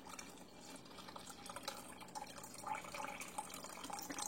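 Mushroom soaking water poured gingerly into a soup pot, a quiet close stream of liquid with splashy dribbles and drips building toward the end.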